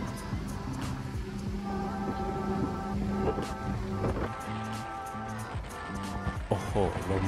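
Strong wind buffets the microphone at the front of a QSY 5202 locomotive on a tourist train at a reservoir in Thailand, steady and loud, while someone talks over it.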